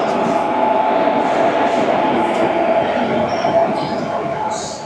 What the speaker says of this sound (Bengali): এটায় দুখানা WAG7 লাগানো।